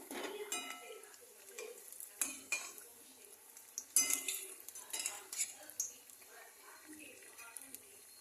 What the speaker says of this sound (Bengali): আলুর চপ আমার রেডি হয়ে গেছে, আর একটু ভাজবো।